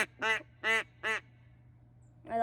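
A Duck Commander Shadow duck call blown close by, giving four loud, nasal quacks in a choppy rhythm with short pauses between them, alone over faint hum.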